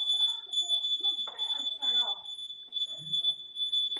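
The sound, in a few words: smoke alarm going off while cooking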